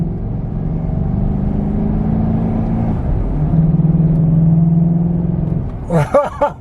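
Engine of a 2014-2020 GMC Sierra/Silverado truck fitted with an S&B cold air intake, giving a loud, close, steady drone that rises in pitch as the throttle opens, then briefly drops before a voice cuts in at the end.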